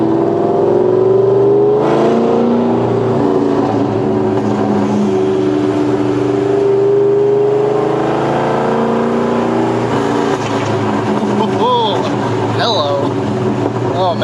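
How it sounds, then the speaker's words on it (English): Terminator Cobra on a drive, its exhaust burbling and roaring steadily up close with sharp popping backfires crackling near the end. "Those backfires are life."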